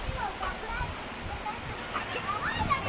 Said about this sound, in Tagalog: Dagko ay lugas ang ulan.